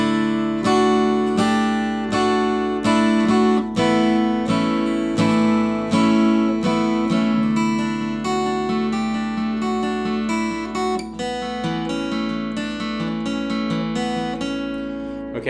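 Acoustic guitar playing a riff, with bright plucked chords repeated in a steady rhythm, close and loud and without talk throughout.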